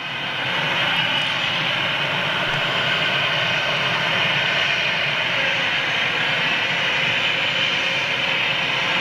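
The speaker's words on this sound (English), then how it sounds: "here comes a 757 right behind him now" A Boeing 757 jet airliner arriving at Manchester airport, a loud steady roar of jet engines that holds constant throughout without fading, with no voices.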